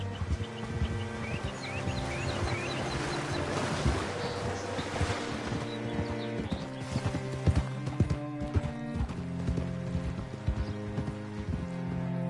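Horse hooves clip-clopping in Red Dead Redemption 2, a steady rhythmic trot close by over a layer of ambient sound and gentle music, continuing throughout.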